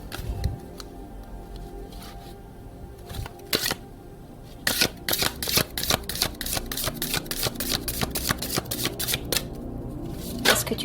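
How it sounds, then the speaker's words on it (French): Playing cards shuffled and drawn during a tarot-style reading, giving a run of crisp riffling snaps and flicks, sparse at first and then dense and rapid, close up with no talking. "Je tire une autre carte."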